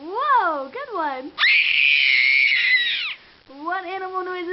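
A child imitates a bear with a long, shrill, strained screech between bursts of sing-song vocalizing, loud and close to the microphone.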